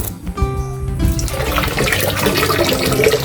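Water pours continuously from a pipe at a water source, a loud, steady rushing gush that swells up after a short tonal hum at the start, with no speech over it.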